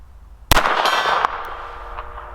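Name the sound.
25 ACP pistol bullet hitting a steel gong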